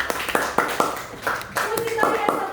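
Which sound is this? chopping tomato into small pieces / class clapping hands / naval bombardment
class clapping hands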